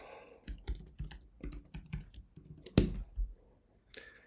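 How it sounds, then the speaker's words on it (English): A password being typed on a computer keyboard in a quiet room, with irregular bursts of close, crisp key clicks and one heavier keystroke near the end. "I'm going to have to type in the password here too. So let's do this and type the password."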